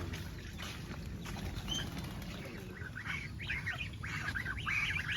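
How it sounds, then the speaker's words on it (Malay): Several faint goose honks sound from a distance, scattered over a murky outdoor background on a Malaysian homestead. "Eh, tengok angsa."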